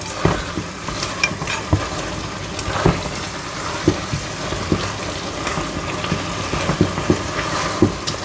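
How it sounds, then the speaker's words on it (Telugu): A spicy country chicken curry is stirred in a pan, with scraping strokes and light sizzling in an irregular rhythm, close and fairly loud, and no talk. "ఇంకొంచెం సేపు ఇది కొంచెం బాగా కలిసేలాగా కలుపుకొని, ఇంకొంచెం తడి ఏదైనా ఉంటే ఎగరనిద్దాం"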